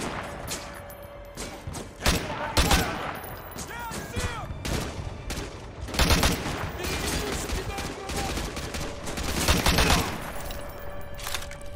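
Rapid bursts of gunfire and explosions from a Call of Duty: Modern Warfare 2 campaign battle, loud and dense throughout, with sharp volleys near 2, 6 and 10 seconds and some voices in between.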